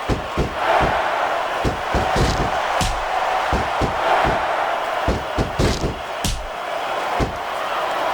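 Arena crowd roaring and cheering during a wrestling match in the WWE SmackDown vs Raw 2006 video game, a steady loud crowd bed punctuated by repeated sharp slams and impacts.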